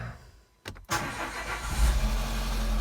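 A Renault 1.6 K4M petrol engine with ticking after a timing belt change cranks briefly, catches, and settles into a steady, close idle with a low rumbling hum.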